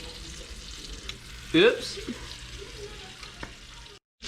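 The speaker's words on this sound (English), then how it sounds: "she's frying just about perfect" Rainbow trout frying in a pan with garlic powder, a steady low sizzle with a brief louder spatter burst, while someone briefly speaks.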